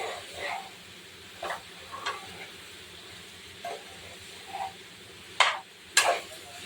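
Chicken curry being stirred in a pan, with a faint steady sizzle underneath and several short scraping strokes of a spoon, the last two louder and sharper, heard close with no talking.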